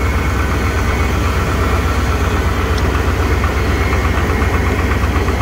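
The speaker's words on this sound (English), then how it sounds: "I don't know if you can hear all that rapping going on." A 1998 K1500 truck idles after a cold start in freezing weather, its steady engine drone carrying a fast, continuous valve rapping that ticks evenly throughout.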